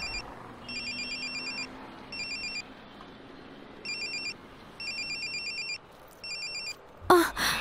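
A mobile ringtone trills from inside a bag in repeated short electronic bursts over faint background murmur, ending with a sharp rustle or clatter.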